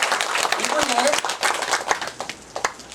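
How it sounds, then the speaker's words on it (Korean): Audience applause at a Korean lecture on the Diamond Sutra, a steady broadband patter of many hands clapping for a few seconds, fairly loud and close, mixed with some voices. "박수 한번 쳐주세요."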